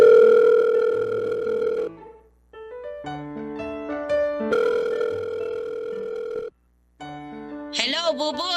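A telephone line sounds with steady tones and beeps while a call is placed, followed by a warbling electronic ring near the end.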